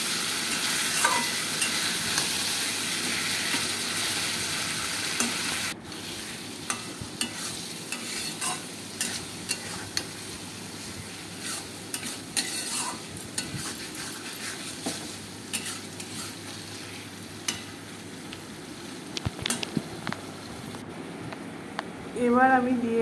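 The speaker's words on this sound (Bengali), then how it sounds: "এবার আলুগুলো আমি খুব ভালো করে কষিয়ে নেব।" Potatoes sautéing with spices in a pan for a Bengali chana dal dish, a steady close sizzle broken by repeated scraping and stirring strokes throughout, with no talk over it.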